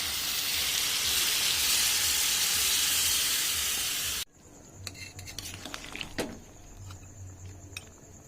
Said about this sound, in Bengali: দিয়ে দিচ্ছি এবার আমি জল।